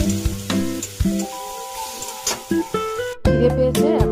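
Chicken cooked with whole spices sizzles and crackles in a pan, the frying broken by stirring scrapes and clatter, close and moderately loud with no voices.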